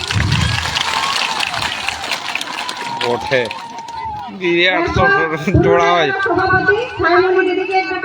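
Audience clapping fills the opening seconds at a women's conference in Bankura district, a dense wash of hands that fades as a voice takes over with sung or chanted speech.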